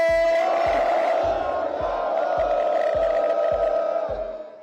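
A large crowd at a Shiromani Akali Dal protest rally shouts the Sikh jaikara response in one loud, sustained massed roar over a regular low thumping beat, then fades.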